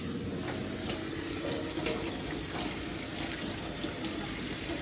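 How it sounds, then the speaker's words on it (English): Vegetables being rinsed under a running kitchen tap, a steady close hiss of flowing water with splashing as the produce is washed. "You always definitely want to wash your veggies."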